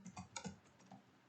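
Quick bursts of computer keyboard typing as a search term is entered, a few keystrokes spread across the moment, then one sharp, louder Enter key press at the very end, close up and with no talking.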